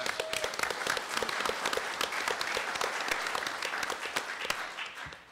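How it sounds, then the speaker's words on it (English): An indoor seminar audience applauds, a dense burst of many hands clapping at moderate volume that holds steady for several seconds before thinning out at the end. "please give these folks a round of applause"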